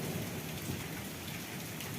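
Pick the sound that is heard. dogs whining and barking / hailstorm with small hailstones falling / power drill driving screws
hailstorm with small hailstones falling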